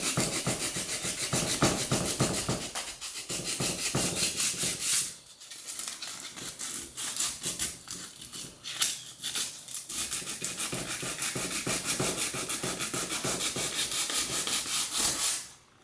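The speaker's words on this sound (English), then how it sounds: "I always go back, sand out what I can while the glue is still drying." A glued wooden window trim casing joint is sanded by hand on a bench while the glue is still drying. Steady rhythmic rubbing strokes run close and loud for about fifteen seconds with a brief pause near the middle.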